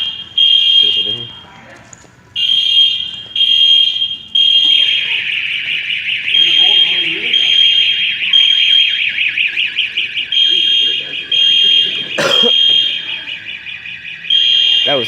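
Building fire alarm blaring in loud repeated electronic tones that pause and resume, with a short bell-like clang near the end; people's voices are faint underneath.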